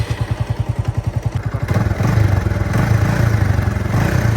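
Bajaj Avenger 220 Street motorcycle engine idling close by with an even thumping pulse, then revving up into a denser, louder roar.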